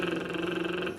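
A voice imitates the engine noise of cars and planes with a short, steady, buzzing hum from the throat, close and even for about a second.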